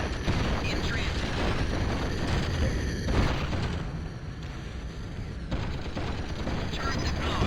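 Rumbling gunfire and explosions fill a battle as a base comes under attack in the game Battlezone: Total Command, a dense, continuous barrage with mechanical noise and occasional louder blasts.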